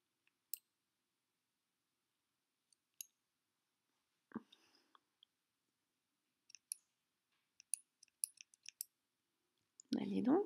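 Scissors snipping tough rubber loom bands on a Cra-Z-Loom Christmas stocking: sparse, quiet, sharp clicks scattered over near silence, with a brief voice midway and a louder voice at the end.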